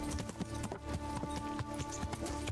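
Horse hooves gallop in a steady, rapid clip-clop rhythm across fields in the medieval game Kingdom Come: Deliverance, loud and continuous, with a game score playing underneath.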